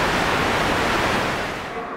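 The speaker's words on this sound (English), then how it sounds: "this sound here is a sound of a whooshing, like if you were, you know, moving a sword" A broad, steady whoosh like a sword or stick swung through the air, generated on an embedded low-latency audio platform, a continuous airy rush that tapers slightly at the end.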